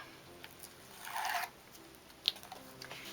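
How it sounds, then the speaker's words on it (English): Backing is peeled off adhesive tape during paper crafting, a faint, close ripping and rustling lasting about half a second, followed by small soft handling ticks and a light click. "So I'm just going to remove the backing of the tape."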